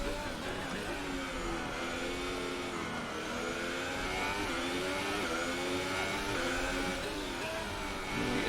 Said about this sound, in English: The annoying engine noises are back.